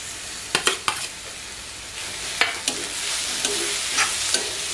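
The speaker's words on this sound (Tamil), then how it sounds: "லாஸ்ட்டாக இந்த தேங்காய் பூ சேர்த்து நல்லா வதக்கிடுங்க." Grated coconut and beans sauté in oil in a pan, with a steady low sizzle and several sharp clacks of a spatula scraping and tapping the pan at irregular intervals.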